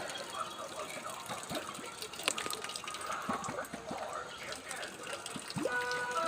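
Steady rushing water pours from a pipe into a container, a continuous gush running throughout, with people talking nearby over the flow.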